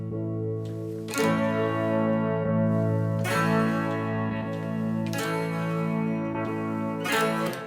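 Electric guitar chords ring out through heavy distortion and amp preset effects, several strummed hits letting each sustain with a wash of echo and chorus.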